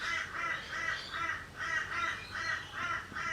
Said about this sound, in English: Oh, listen to those crows out there.